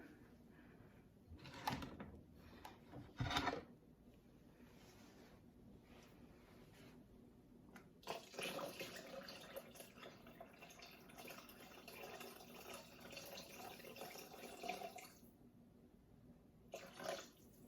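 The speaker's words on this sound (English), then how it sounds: "We will be adding water. So it asks for 500 grams of water." Water pours steadily into a Thermomix TM6 bowl for several seconds, a continuous splashing rush following a few clunks and knocks, with no one speaking.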